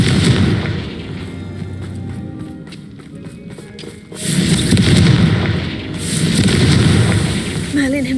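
The Confringo blasting spell in Hogwarts Legacy goes off in two heavy booming explosions, one after another, over game sounds with a voice speaking.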